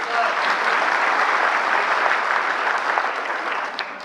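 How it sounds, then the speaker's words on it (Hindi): Audience at an Aadhaar update workshop in New Delhi applauds, a dense, loud, steady wash of many hands clapping that carries on evenly for about four seconds with no talking. "तो ये तालियां जो हैं"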